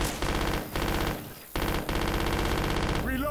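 Zombies are gunned down in Left 4 Dead 2, with loud, rapid automatic fire rattling almost nonstop in dense bursts and a couple of brief pauses.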